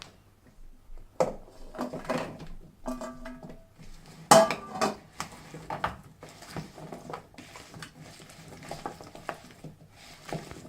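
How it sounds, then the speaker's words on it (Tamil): Spoon scraping and clinking in a bowl as chopped onion, capsicum and paneer are tossed with masala for paneer tikka, a run of irregular close taps and stirring knocks of varying loudness. "இப்போது இதில் நம்ம கட் பண்ணி வச்சுருக்க வெங்காயம், குடமிளகாய், பன்னீர் எல்லாத்தையும் சேர்த்து நல்லா மிக்ஸ் பண்ணிக்கலாம்."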